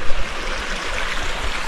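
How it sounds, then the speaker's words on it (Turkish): Water of a small stream flowing on the rocky Marcahuasi plateau in Peru: a steady, close, broadband rush with a soft low rumble, unbroken for the whole stretch, with no voices over it. "şurada nehir gibi bir yer var ufak"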